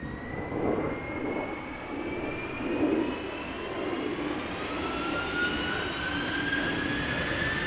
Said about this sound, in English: Delta Airlines Flight 71 A330-300 outbound to Atlanta, Georgia.